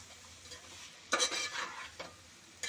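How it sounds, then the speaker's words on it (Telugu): Flat beans frying in a pan are stirred now and then, with a quiet sizzle broken by a louder scraping stir in the middle and a brief clink near the end. "ఇలా మధ్య మధ్యలో కలుపుతూ ఉంటే చిక్కుడుగాయ చక్కగా ఫ్రై అవుతుంది"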